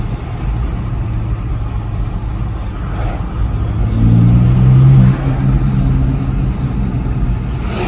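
A car engine fitted with an RK Tunes X3M front mount intake rumbles loud and close, rising in a revving swell with an audible spool-up before settling back to a steady drone.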